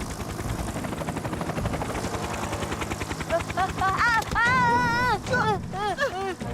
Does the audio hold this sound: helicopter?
yes